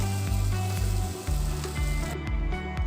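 Mutton liver pepper fry sizzling and being stirred in a pan, a steady close crackle broken by a few scraping stirs, with no talk.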